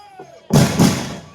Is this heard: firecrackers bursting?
yes